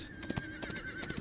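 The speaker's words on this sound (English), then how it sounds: "Screaming horses." A horse whinnies briefly amid a restless, noisy sound effect, with a thin high tone running underneath and a few soft thuds.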